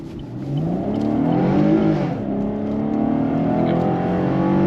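A car engine rises and swells as the vehicle accelerates past at a testing ground, loud and close, with a rising whine that peaks midway then settles into a steady drone.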